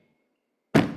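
Hand slamming a table to imitate a car door closing, one sudden loud thud after silence, heard up close and alone.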